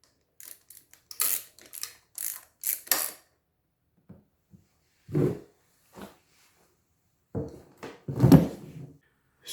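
A ratchet wrench with a 12 mm socket loosens a case bolt on a Honda XR650L motorcycle in close, crisp bursts of rapid clicking, separated by short pauses.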